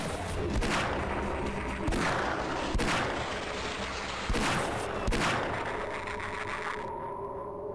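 Gunfire from the video game Half-Life: Blue Shift: a run of sharp, loud shots at irregular intervals over a constant dense background of game noise, with no voices.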